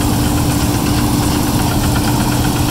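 An old Massey Ferguson combine engine runs hard in a field, a loud, steady, vibrating low drone with a knocking pulse throughout, alone with no voices.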